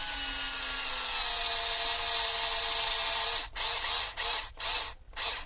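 Screws driven into an RC car servo mount with a small power driver, a sustained high whirring that runs for about three seconds, then several short bursts with pauses, close and loud, with no talking.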